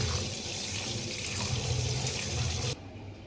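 Foxtail millet grains are rinsed in water, producing a steady wash of running and sloshing water close by for nearly three seconds before it suddenly drops to a quieter hiss.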